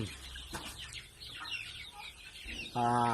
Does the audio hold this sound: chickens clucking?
yes